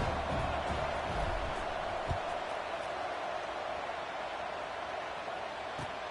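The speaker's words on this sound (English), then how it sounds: "this crowd is buzzing after that last score" A college football stadium crowd buzzes after a score, a steady, moderately loud murmur of many voices with a few faint thumps, heard before a kickoff.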